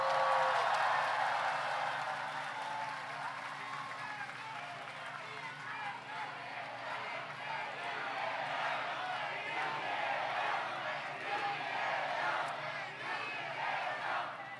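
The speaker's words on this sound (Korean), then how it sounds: "마지막 박수 한번 치세요" A large crowd at an outdoor political campaign rally in the Seoul metropolitan area claps and cheers continuously in a broad wash of applause, with some shouting and voices mixed in.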